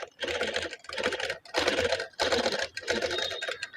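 Domestic sewing machine running in several bursts of steady rapid stitching, close and fairly loud, with short pauses between runs after its shuttle and thread-breaking fault has been fixed.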